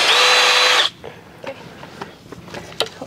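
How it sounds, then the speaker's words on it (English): Power drill boring into a knot in wood, a loud whining buzz for under a second that cuts off, followed by quiet taps and small knocks. "Just drilling a little bit."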